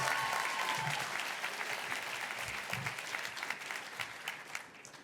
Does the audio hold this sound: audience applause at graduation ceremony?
yes